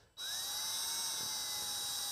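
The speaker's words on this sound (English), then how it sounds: "To put the tip of the drill bit right in the center, and slowly, because this is acrylic," A drill bit spins slowly into an acrylic workpiece for a resin clock, a steady high-pitched whine that starts abruptly and holds evenly, faint and close with no voices.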